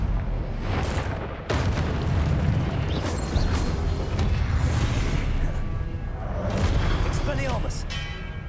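Spell blasts from Confringo casting in the Hogwarts Legacy video game, a continuous run of booming, rumbling explosions with sharp bursts near 1.5 and 3 seconds, loud and dense with a voice calling out over the combat.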